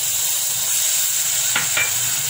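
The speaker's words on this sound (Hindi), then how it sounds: "अब हम इसमें किशमिश डालेंगे।" Soaked raisins go into semolina roasting in a pan for sooji halwa, producing a loud, steady close-up sizzle with a couple of quick stirring scrapes.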